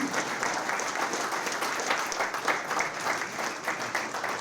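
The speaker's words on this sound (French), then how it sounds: "Une bonne main d'applaudissement à notre doyen, André Larue." Steady applause from an audience at a press conference, a dense continuous patter of many hands clapping throughout, fairly loud and even with no break.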